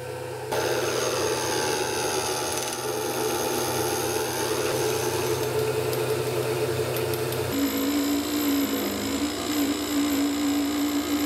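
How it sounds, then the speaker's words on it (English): A cheap benchtop metal lathe bores a hole through the center of a rotary table part held in a three-jaw chuck, giving a steady, loud machine hum with cutting noise that runs the whole time and shifts pitch near the end. "I can now bore a hole in the center, which will allow me to flip the part and then mount it on an arbor"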